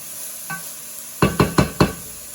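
Onions, peppers and garlic are stirred in a frying pan, with one light knock followed by four quick, loud scraping strokes of a utensil against the pan.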